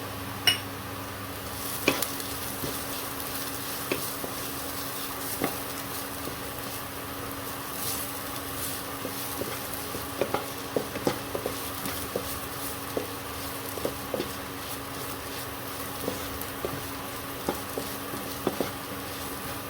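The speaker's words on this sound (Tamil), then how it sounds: "இஞ்சி பூண்டு நல்லா வதங்கிச்சு. நம்ம மஞ்சத்தூளும் மிளகாத்தூளும் போட்டுக்கலாம்." Steady sizzling of ginger and garlic frying in oil in a pan with turmeric and chili powder, with occasional stirring scrapes and light clinks throughout, no talking.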